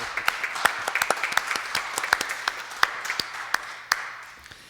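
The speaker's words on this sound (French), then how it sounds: "Merci à la maison de vos applaudissements." A church congregation at Mass applauds in a lively, uneven patter of many hands, with a few sharper claps standing out before the clapping thins toward the end.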